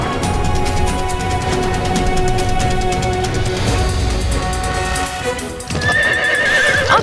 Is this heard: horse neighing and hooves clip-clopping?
yes